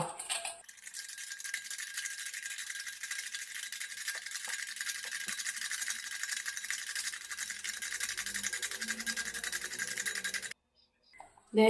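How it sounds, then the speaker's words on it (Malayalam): Sugar, butter and eggs are beaten together in a bowl for masala biscuits. A steady, close buzzing whir with a faint rattle runs for about ten seconds, then stops abruptly. "ഇനി നമുക്ക് ഈ പഞ്ചസാരയും ബട്ടറും മുട്ടയും കൂടെ നല്ലതുപോലെ ബീറ്റ് ചെയ്തെടുക്കണം"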